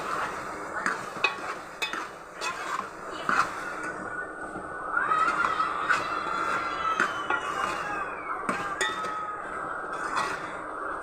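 A spoon stirs chicken fry in a pan after chili powder is added, with repeated clinks and scrapes against the metal over a steady low sizzle.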